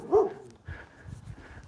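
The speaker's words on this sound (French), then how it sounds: "Salut le chien!" A dog barks nearby on a walking route along the Shikoku pilgrimage in Japan, one loud bark at the start followed by softer yips and whimpers.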